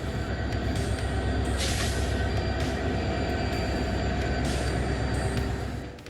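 A goods train runs a night trial on the up line near Rangapani after an accident, a heavy continuous rumble of wagons with metallic wheel squeals that fades slightly at the end.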